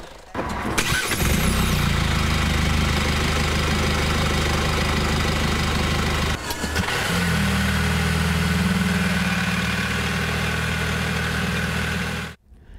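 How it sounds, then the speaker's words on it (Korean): A hybrid car's engine starts and runs at a steady, loud drone, with a second start or surge partway through, recorded for comparison with the diesel version of the same model. "하이브리드 차량이 디젤 모델보다 오히려 소음이 크고 실내에서도 상당한 소음이 들립니다."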